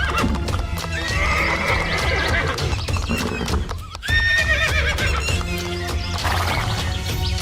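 Cartoon horses carrying three bandits clip-clop and neigh in a busy, continuous layer of hoofbeats and whinnies, with a brief dip midway before the sound resumes at full strength.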